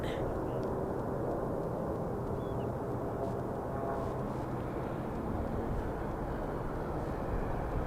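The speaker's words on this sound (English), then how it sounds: "this is going to be Southwest Airlines SWA 899 heading over to St. Louis, Boeing 737." Southwest Airlines Boeing 737 jet airliner at Harry Reid International Airport in Las Vegas, a steady broad jet roar without any break, moderately distant, with faint voices underneath.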